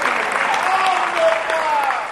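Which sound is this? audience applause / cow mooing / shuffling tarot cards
audience applause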